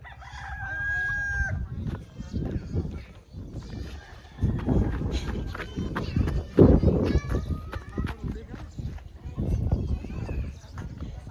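A rooster crows early on, then chickens cluck and flutter in a noisy scramble as the rooster chases a hen and her chick, while people talk loudly nearby throughout.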